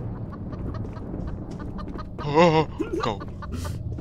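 A chicken in a Roblox horror game gives a brief, fairly loud cluck partway through, amid continuous background noise and people talking.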